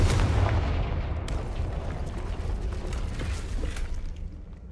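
Confringo fire spell explosions in the video game Hogwarts Legacy, a loud booming blast that fades into a long rumbling, crackling tail with faint scattered debris clatter.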